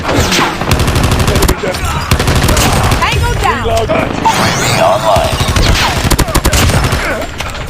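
Rapid, loud automatic gunfire rattles almost continuously in Call of Duty Mobile, close bursts mixed with game effects and excited talking.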